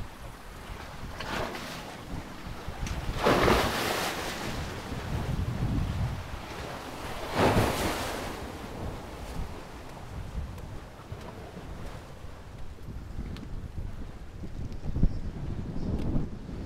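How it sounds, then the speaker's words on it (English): Waves wash onto Mangel Halto beach in Aruba under gusty wind buffeting the microphone, with two stronger surges standing out over a steady roar of surf and no speech. "it's a little bit odd to see this many waves here at the Mangel Halto."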